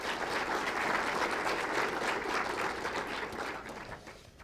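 Audience at a Tustin State of the City event applauding city employees, dense sustained clapping from a sizeable crowd that slowly thins toward the end.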